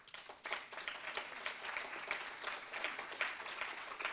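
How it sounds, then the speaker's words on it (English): Convention audience in Manila breaking into a big round of applause, a dense crowd of hands clapping steadily for several seconds after a quiet start, moderately distant and fairly soft. "Let us give them a big round of applause."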